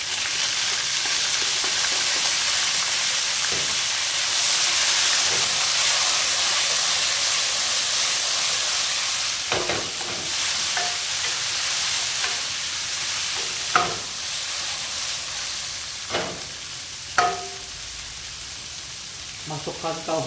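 Bean sprouts stir-fried in a wok, a loud continuous sizzle and hiss with occasional scraping and clanking of the spatula against the pan, a person speaking briefly over it.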